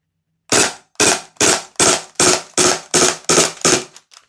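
A Maruyama MP9 gas blowback airsoft SMG fires eight sharp, evenly spaced shots at a steady rhythm, loud and close, with a faint final pop trailing off.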